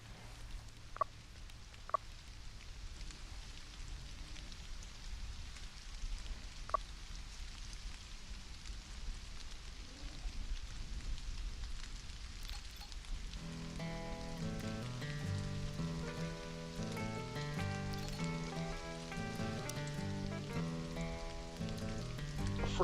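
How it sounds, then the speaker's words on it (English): Steady rain falling in the video game Stranded Alien Dawn, a soft constant hiss with a few clicks, joined midway by gentle melodic music over the rain. "Oh my god, it's raining."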